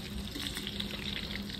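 Chicken pakora sizzles in hot oil with a steady, soft crackling hiss that runs evenly throughout, close by and alone without voices.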